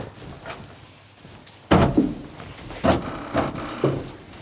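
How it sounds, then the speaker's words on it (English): A door being opened, with a jangle of keys, a soft rattle, then several heavy wooden thuds and clunks at close range, spaced a second or so apart. "Right, open the door."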